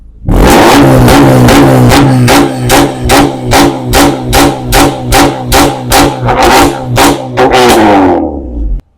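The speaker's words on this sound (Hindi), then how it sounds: "Comes with a dual exhaust sound सुनाएंगे।" A car with a dual exhaust revs hard and close, the engine note rising and falling in a quick series of about a dozen sharp blips before cutting off.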